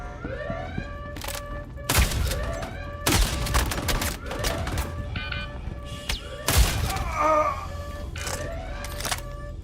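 Triple Down pistol fire in a video game, a few loud broadband bursts at about two, three and six and a half seconds over a busy game soundscape with tonal effects.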